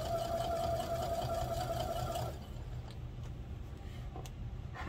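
A sewing machine runs steadily for about two seconds, stitching through the layered fabric of a baby bib, then stops, leaving quiet room noise with a few faint clicks and handling sounds.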